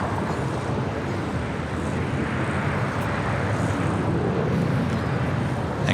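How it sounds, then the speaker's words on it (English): A DHL Polar Cargo Boeing 777 freighter bound for Cincinnati roars steadily and loudly at an airport, a continuous broadband jet rumble with no break across the few seconds. "Right up next is that DHL Polar Cargo 777 freighter heading to Cincinnati"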